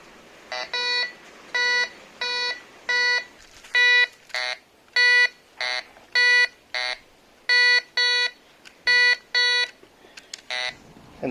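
An Aldi GC 1032 metal detector sounds its signal tone over a pull tab: a long series of clear electronic beeps in short, regular bursts, loud and close, with no talk.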